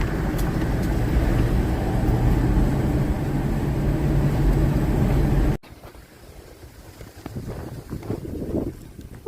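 A steady engine and road rumble of a car on a country road, with wind buffeting the microphone, loud at first, then dropping to a quieter drive partway through.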